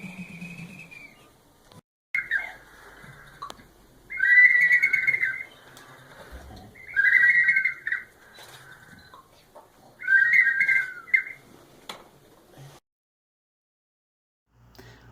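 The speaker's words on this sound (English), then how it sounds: "Baby seagulls." Baby seagulls give high, repeated calls in three or four bursts of squealing cries separated by short pauses, fairly close and clear, with no talking.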